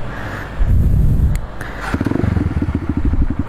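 A motorcycle on a long road trip from Bekasi toward Lampung runs close by at a fuel stop. A brief rev and clatter gives way to a fast, steady, pulsing engine idle.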